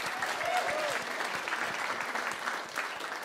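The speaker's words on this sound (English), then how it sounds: "let's hear a big round of applause for all the nominees" Audience at the Scots Language Awards 2021 claps for the nominees, a thick, steady round of applause from a crowd with a brief cheer early on, continuous and moderately loud from start to end.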